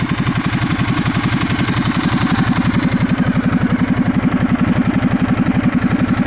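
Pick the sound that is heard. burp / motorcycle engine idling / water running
motorcycle engine idling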